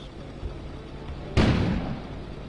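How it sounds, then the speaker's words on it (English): A sudden explosion bursts outside about midway, a single loud broadband blast that rises sharply out of a quiet background and then decays into a lingering rumble. "An explosion suddenly occurred outside"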